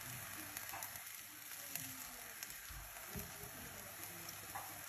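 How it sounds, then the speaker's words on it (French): Aubergines fry in a pan after a splash of soy sauce, with a steady close sizzle and crackle and scattered pops throughout. "je rajoute un peu de sauce soja sur les aubergines pour les aider à bien caraméliser"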